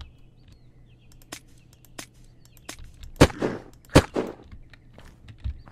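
Gunfire in the video game Unturned, a few sharp isolated shots at moderate distance over a quiet background, with two louder cracks near the middle and fainter ticks scattered around them.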